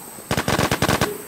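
Rapid automatic gunfire in the survival shooter game Infestation: Survivor Stories: a tight burst of about a dozen sharp shots in just under a second, loud and close, with no speech.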